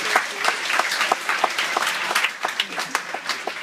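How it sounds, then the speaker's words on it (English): Applause from the audience at a hypnosis show aboard a cruise ship: brisk, busy clapping from a modest crowd with individual claps standing out, lively and fairly close, rising and dipping over a few seconds. "Give her a big round of applause."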